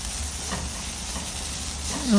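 Turmeric and Kashmiri chili powder fry in hot oil for a Kerala prawn rice, giving a steady, soft sizzle with faint stirring, close and continuous, growing slightly louder at the end.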